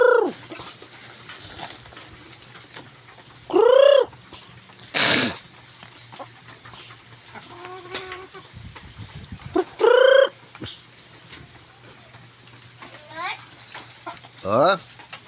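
Chickens being fed cluck and call out in loud, close bursts every few seconds, with quieter background clucking in between and a voice speaking.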